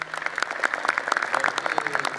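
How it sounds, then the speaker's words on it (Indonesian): Audience applause at a graduation, a brief burst of scattered, fairly faint clapping. "Tepuk tangan untuk kalian teman-teman."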